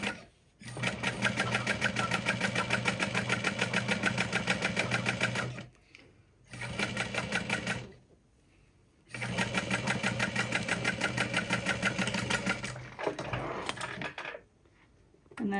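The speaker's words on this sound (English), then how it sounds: "I'm gonna top stitch this into place" A sewing machine topstitches a seam on a crossbody bag in two long steady runs with a short pause between, then a brief final burst, close and fairly loud with no talking.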